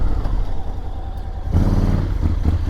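A Honda X-ADV scooter-style motorcycle pulls to a hard stop with combined braking, engine noise steady and close, then a brief rise in rumble as it settles, with no talk.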